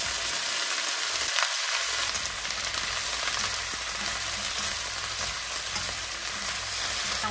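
Onion, carrots, broccoli and cabbage stir-fry in a pan, with a steady, close, continuous sizzle and occasional stirring scrapes throughout.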